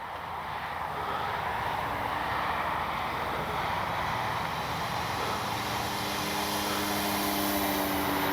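An Avios Extra NG radio-controlled aerobatic plane flies in the evening, its electric motor giving a steady, loud, continuous whine that holds evenly with slight pitch shifts as it passes.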